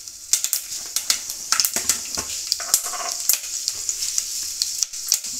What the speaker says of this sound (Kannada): ಸ್ವಲ್ಪ ಶೇಂಗಾವನ್ನು ಹುರ್ಕೊಳ್ಬೇಕು